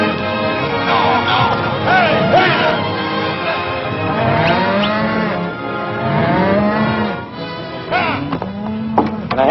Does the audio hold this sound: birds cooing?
no